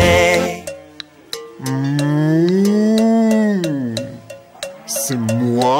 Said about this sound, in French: C'est moi, la vache de mou.